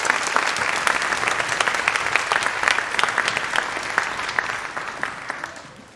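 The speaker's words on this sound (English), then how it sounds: "How about another round of applause for the band?" Dense, loud audience applause at a junior high school band concert, many hands clapping steadily for about six seconds before starting to fade at the end.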